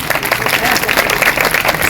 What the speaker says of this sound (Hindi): सभी जोर से तालियां बजाएंगे